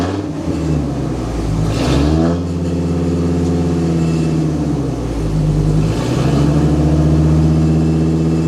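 A cold monster truck engine revs loudly nearby, climbing and falling in pitch through two or three surges and settling between them into a deep, rough throb, with no talking.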